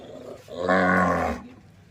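A single deep, drawn-out moo from a cow, loud and fairly close, lasting about a second.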